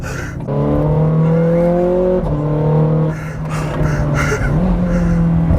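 A Ferrari 430 Scuderia's engine revs hard while driving, a loud, close, sustained howl that climbs in pitch, dips briefly during a shift, then surges again.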